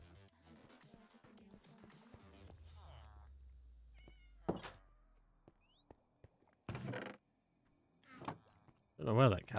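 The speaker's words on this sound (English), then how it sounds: "Don't know where that cat's coming from." A cat in a Minecraft-style survival multiplayer world meows several times, short distinct mews scattered between people talking, with a few thunks and clicks mixed in.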